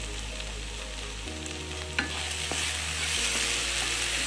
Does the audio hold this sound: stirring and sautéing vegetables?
yes